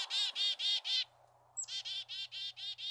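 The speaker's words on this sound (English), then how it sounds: "The mobbing calls of chickadees is very helpful for other birds and animals too" Chickadees give rapid mobbing calls: a quick run of four sharp, buzzy notes, a short pause with a faint low hum, then another fast series of six or seven notes, close and clear.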